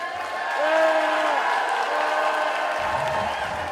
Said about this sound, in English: Please join me with a big round of applause in welcoming Representative Breanne Curran to the stage